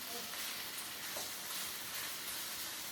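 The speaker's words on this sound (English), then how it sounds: "We're just stirring these around a little bit" Pre-seasoned food with garlic, onion and pepper sizzles steadily in a pan on low heat, a dense close hiss with soft stirring scrapes underneath.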